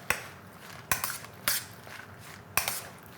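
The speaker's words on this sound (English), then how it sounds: "all going in here, and you stir." Four soft clinks of a spoon knocking against a bowl, spaced irregularly, while apples, currants, sultanas and raisins for mincemeat are stirred, quiet and close.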